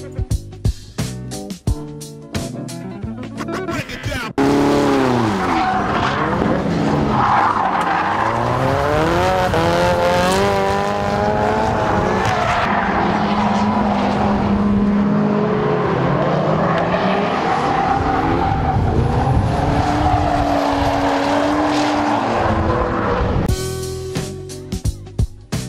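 A boss-kitted Nissan S14 with an SR turbo engine drifts around a Japanese circuit, its engine wailing loud and close through rising and falling revs, with tire squeal and rapid gear changes, bracketed by sharp mechanical clatter at the start and end.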